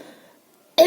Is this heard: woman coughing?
yes